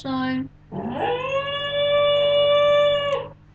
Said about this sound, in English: if you can hear dogs, that's just my dog